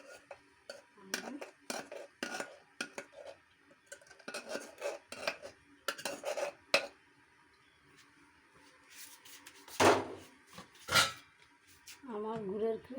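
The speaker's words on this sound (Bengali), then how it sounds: "এখন আমি এই যে গুড়ের ক্যারামেলটা ঢেলে দেব" Thick jaggery caramel is poured over peanuts from a metal pan in a home kitchen, with a spoon scraping and clinking against the pan in scattered bursts and a few louder knocks near the end, close and moderately loud.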